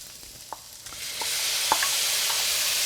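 Diced tomatoes tumble into a hot, sizzling pan, a few soft clicks giving way to a frying hiss that swells and holds steady, close and fairly loud, with no one talking.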